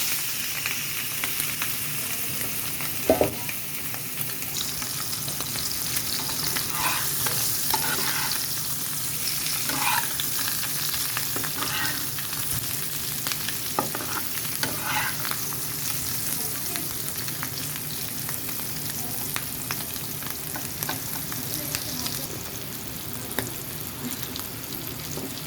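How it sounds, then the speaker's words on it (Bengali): Cubed boiled potatoes sizzle steadily in hot oil for biryani, a continuous frying hiss with occasional stirring clatters and soft pops throughout, with no talking. "এই আলুগুলো এখন আমরা গরম তেলে দিয়ে ভেজে নেব।"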